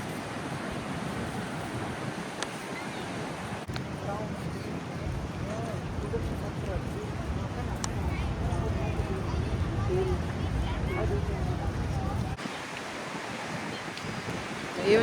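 Big ocean waves roll in with gusty wind at Surfers Paradise, a continuous loud broadband roar with wind buffeting the microphone, and voices talking over it.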